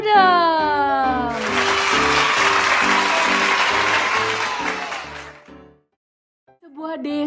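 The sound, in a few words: children clapping hands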